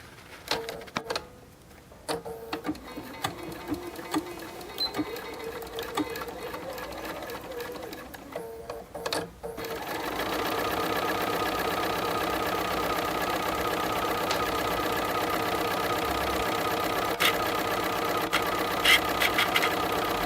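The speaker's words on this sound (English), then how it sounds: "We're going to repeat the process for pieces B, where we put them face to face, right sides together, and sew the curve again." A sewing machine stitches a curved seam joining fabric face mask pieces, its motor whirring steadily and close, with a brief pause before running continuously for the rest of the stretch.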